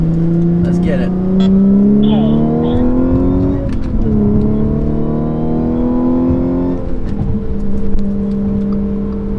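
An Audi S4/S5 fitted with an AWE exhaust drones on the highway at about 70 mph, a loud steady low hum with shifting pitch as the engine note rises and falls, heard from inside the car.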